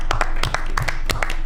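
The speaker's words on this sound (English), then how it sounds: "Didn't know I'd get an applause for that." A few people clap at a zoning board meeting, brief scattered claps in an uneven rhythm, close by and fairly loud.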